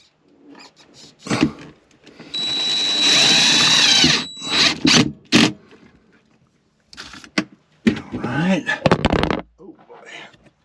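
Power drill driving small screws into a Renogy BT300 shunt on a 24v system, a close whirring burst of about two seconds plus shorter spurts, with a person talking between runs.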